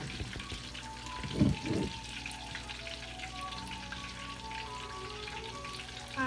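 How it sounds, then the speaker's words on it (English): Mackerel fries in a pan with a continuous soft sizzle and crackle, one brief louder bump partway through, with no talking. "So this is our mackerel cooking."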